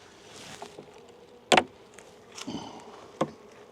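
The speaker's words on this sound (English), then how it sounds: "you can't really do this without getting the bees going" Honey bees buzzing steadily in an opened hive during a mid-winter apiary inspection, a close droning hum broken by a few sharp cracks and knocks of hive parts being pried.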